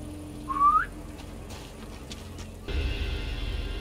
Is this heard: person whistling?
yes